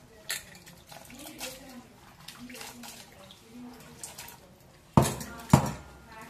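Broad beans being washed in salted water in a kitchen, with soft sloshing and rinsing close by, then two sharp clatters near the end, likely a bowl or vessel knocking; a voice may be faint underneath.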